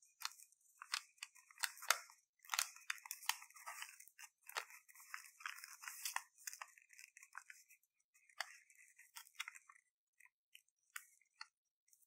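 Origami paper for a pumpkin box is folded and creased in quiet, crisp crinkles and sharp scraping strokes, close up, coming in irregular bursts with brief pauses, and no talking.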